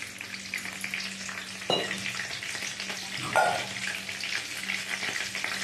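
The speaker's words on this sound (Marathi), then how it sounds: "सर्वप्रथम कढीपत्ता टाकायचा आहे" Curry leaves hit hot oil in a pan while making green raw mango bharit, setting off two sharp, loud crackling bursts over a steady close sizzle, with no talking.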